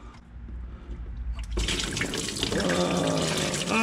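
Oil drains out of a Renault Espace 3 engine with no drain tap, a faint trickle that suddenly swells into a loud, steady, splashing pour.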